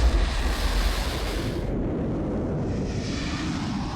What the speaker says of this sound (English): Israeli fighter jets swung into action as they roared across the north